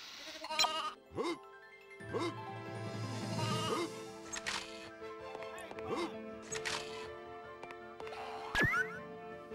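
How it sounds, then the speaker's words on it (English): Repeated sheep bleats from a PlayStation 1 game demo, several distinct cries spread across the scene over game music and effects, fairly close and clear. "I heard a sheep."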